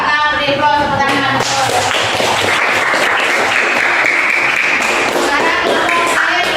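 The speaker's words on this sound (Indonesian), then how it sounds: "Kita beri applause tepuk tangan." A classroom group claps hands in applause, a dense burst of many claps beginning after about a second and continuing steadily and close, with some voices mixed in beneath.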